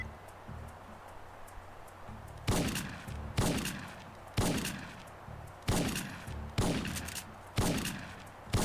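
Heavy gunfire in the video game Syphon Filter 2, with sharp, loud bursts of shots arriving about once a second over low background game sound.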